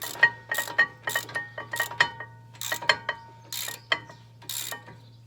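A ratchet wrench tightens the brake caliper bolts on a Ford Kuga MK2, a series of quick metallic clicking bursts in an irregular rhythm over a low steady hum.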